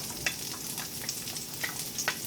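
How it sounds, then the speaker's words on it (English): Onions and a bay leaf frying in a hot pan give a steady, close sizzle with a few brief crackling pops, and no voices are heard over it. "I'm going to throw in a bay leaf or two in here. I will also throw in my onions."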